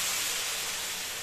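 Spiced water poured into a hot pan for cauliflower and prawn biryani gives a loud, steady, broad sizzling hiss throughout, with no talking.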